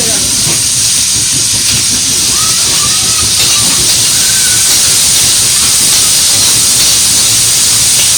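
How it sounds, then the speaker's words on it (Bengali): Bay leaf, five-spice and dried chilies tempering in hot oil over greens, a loud, close, steady hiss and sizzle, with voices faintly under it. "শাকের মধ্যে ফোড়ন দিয়েছে তেজপাতা পাঁচ ফোড়ন আর কিছু শুকনো লঙ্কা"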